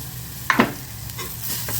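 Spiced mixture with pepper powder being sautéed in a pan with the stove off, for wheat dosa batter: a couple of quick stirring scrapes and faint sizzle over a low steady hum, no talk.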